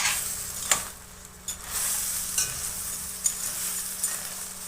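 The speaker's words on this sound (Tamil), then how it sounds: "இப்போ இதெல்லாம் நல்லா மிக்ஸ் பண்ணிட்டு" Crab masala gravy is stirred and mixed in a sizzling pan, with scraping strokes of the spoon against the metal at irregular intervals over a continuous frying hiss.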